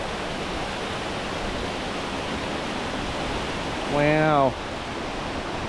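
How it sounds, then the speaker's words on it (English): Waterfall along the Grandeur Peak East Trail in Church Fork, a steady broadband rush of falling water filling the whole clip, with a short spoken exclamation near the end riding over the constant roar. "Look at this waterfall."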